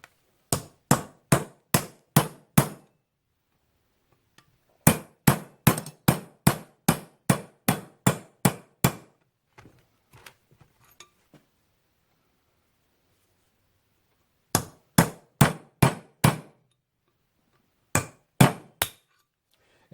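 A hammer strikes a cape chisel against a seized metal pipe thread in quick bursts of sharp, ringing blows, about five to ten in each run, close and loud, with short pauses between runs.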